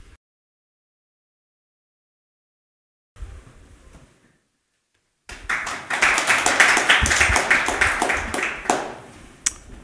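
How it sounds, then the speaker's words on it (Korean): Applause from an audience at an indoor forum on drug safety information breaks out after a pause, a dense burst of clapping from a modest crowd that rises, holds for several seconds, then thins out with a few last claps. "박수 주셔서 감사드리고요."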